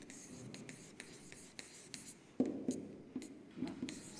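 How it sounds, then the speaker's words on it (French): A teacher writing on a classroom board, a series of short tapping and scratching strokes with chalk or marker, mostly faint with a louder burst midway, a soft voice murmuring nearby. "Alors on va écrire ça."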